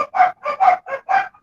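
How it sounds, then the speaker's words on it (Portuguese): Dogs bark in a quick run of five or six loud, close barks with short gaps, heard clearly through an open microphone during an online class. "senão todo mundo vai ouvir a cachorrada"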